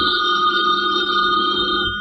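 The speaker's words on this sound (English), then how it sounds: "It is a little after 9 in the morning. Robert Gardner is just leaving for the office as the phone rings." Telephone bell ringing as a sound effect in an old-time radio drama, a loud continuous electronic-sounding ring held steady for about two seconds, close and without voices.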